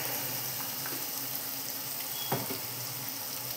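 Masala spices fry in hot oil with a soft, continuous sizzling hiss and a faint stirring scrape.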